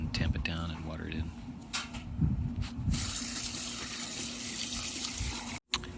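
Water pours onto soil freshly spread and tamped over planted red mulberry, Russian mulberry and golden currant seeds, a steady close gushing stream that takes over after a few seconds of soft handling noise and a quiet voice.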